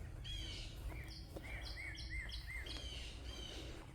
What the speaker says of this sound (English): Nothing walking around, just birds.